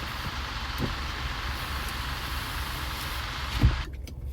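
Steady road-vehicle engine rumble from a nearby old diesel truck idling or rolling in traffic, a low continuous drone with a brief louder thump near the end before it quiets.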